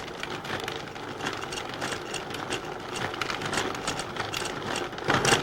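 A Cuisinart food processor kneading bread dough runs with a continuous, fairly loud motor whir and rough rhythmic thumping of the dough ball, swelling louder near the end.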